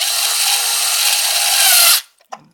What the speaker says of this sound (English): And this drill is also fantastic.